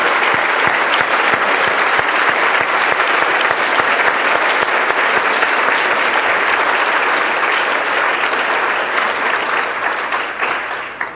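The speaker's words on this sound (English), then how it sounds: "Joanne, if you can stand up, let's all give Joanne a round of applause for John Udes." Sustained, loud crowd applause at a hall of fame induction ceremony honoring an inductee's wife, dense clapping from many hands holding steady throughout before easing slightly at the end.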